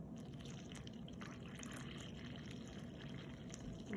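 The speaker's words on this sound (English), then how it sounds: "660 grams, I just pour that in the middle." Lukewarm water, about 660 grams, poured into the middle of a bowl for sourdough bread dough: a soft, steady liquid trickle and splash, faint and close, with no talking.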